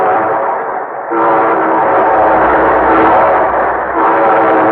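A train horn on an old-time radio program from 1952 blows a long, loud, sustained chord that steps up in pitch early on and dips briefly near the end, with no talk over it.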